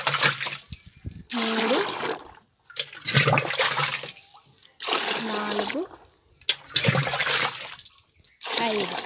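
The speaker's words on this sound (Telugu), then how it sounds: "సో దీనికి ఒక 4-5 మగ్గలు అయితే ఇస్తున్నాను వాటర్ అనేది డైల్యూషన్ చేద్దాము" Water poured from a mug into a container to dilute liquid plant fertilizer, with four or five separate splashing pours, each a second or two long and separated by short pauses, close by.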